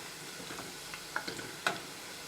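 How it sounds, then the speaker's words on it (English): Leeks frying in hot vegetable oil in a pot: a faint, steady bubbling hiss with a few light pops and crackles, quiet and close, no voices. "But we just want these to fry to a golden brown or a golden color."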